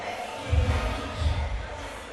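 Indoor arena crowd at a Tuff-N-Uff fight at the Orleans Arena, a steady roar of voices swelling in two loud surges, dense and continuous throughout.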